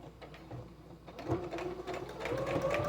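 A sewing machine stitches along the edge of a fabric apron, a quick rhythmic mechanical whir that picks up speed and grows louder, with a faint tonal whine rising near the end.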